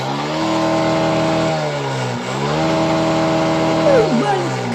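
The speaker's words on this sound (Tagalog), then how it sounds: "pakinggan nyo ang pwersa sa motor ni Bossing" Suzuki Smash 115 underbone motorcycle engine revving loudly uphill on a steep road with a rider carrying a passenger, its steady pitch dropping and climbing again as the throttle shifts, close and continuous for the whole stretch.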